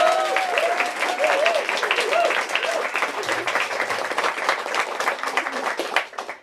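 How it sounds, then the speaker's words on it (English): An audience at a bookstore author event for a novel release claps steadily for several seconds, a dense close wash of applause with some voices mixed in, fading out at the end. "Let's give a round of applause."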